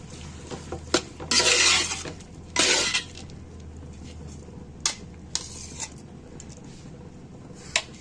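Four large tomatoes are sautéed and mashed into a paste in a pan, with rough scraping stirring strokes in short bursts over a low sizzle and occasional light clinks of the utensil, close and fairly loud.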